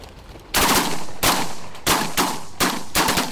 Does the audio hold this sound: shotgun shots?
yes